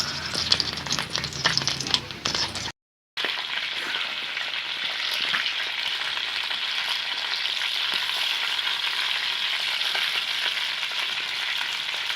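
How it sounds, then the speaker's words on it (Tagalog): Longganisa, a Bulacan sausage, frying in oil in a hot pan: a loud, steady sizzle that runs on after a brief silent gap, with bursts of stirring and rattling at the start. "nailagay na natin yung longganisa sa mainit na kawali"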